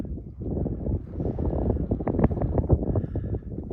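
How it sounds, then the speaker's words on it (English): Wind gusting across a frozen lake during ice fishing for perch on Lake Nipissing, a rough buffeting rumble against the microphone with irregular bursts, close and fairly loud, with no speech. "you can probably hear the wind a little bit, but it's not too bad"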